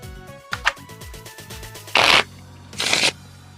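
A deck of playing cards is shuffled during a tabletop card game, with a few quick flicks and ticks followed by two loud riffling bursts, close and alone.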